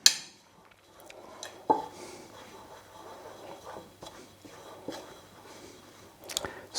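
Milk being stirred into naan dough in a bowl, with soft, wet scraping and occasional clinks of the utensil against the container, quiet and close.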